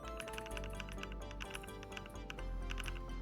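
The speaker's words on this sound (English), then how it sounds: "My keyboard glitches out and it goes." Rapid clicking and tapping from a computer keyboard with Mechvibes key sounds, a quick irregular stream of keystrokes close up and fairly quiet, ending in one sharper, louder knock.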